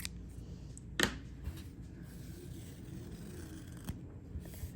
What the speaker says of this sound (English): And then cut your yarn.